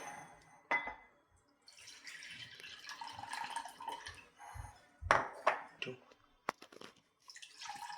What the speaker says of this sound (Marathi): अशा पद्धतीने ही छान डाळ मी दोन ते तीन वेळेस पाण्याने स्वच्छ धुवून घेतलेली आहे